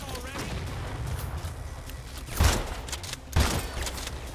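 Shotgun hipfire in the video game Crime Boss Rockay City: two sharp, booming blasts about a second apart over a busy rumbling background.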